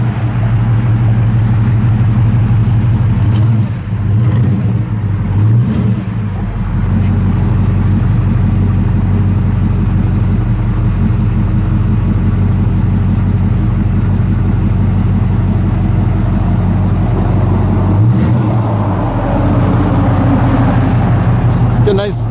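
A 1967 Chevrolet El Camino engine runs steadily through dual exhaust with a factory-type muffler, a loud, continuous low rumble with brief dips in level, with no talk heard.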